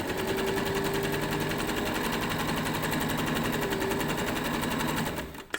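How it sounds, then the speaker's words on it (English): A sewing machine runs steadily, stitching a seam along fabric and trim for summer shorts, a close, continuous rapid mechanical chatter for about five seconds before stopping with a few soft clicks. "So again, reverse, and then you're going to stitch all that way,"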